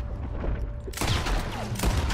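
Gunfire from a Red Dead Redemption 2 train heist shootout with an oil wagon: a sharp burst at about one second followed by sustained loud, crackling shots and reverberating booms.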